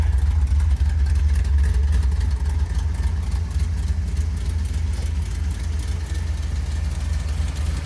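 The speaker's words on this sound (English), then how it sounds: "Been sitting here idling for probably 10-15 minutes." An old Plymouth Valiant drag car built for Detroit street racing idles with a deep, continuous engine rumble, steady and close, with no talking over it.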